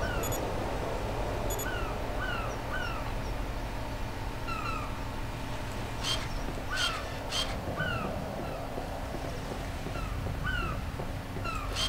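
Seagulls in the game Beyond Good and Evil cry repeatedly in short, rising calls scattered across a constant ambient bed, some sharper squawks bunched in the middle, with no talking.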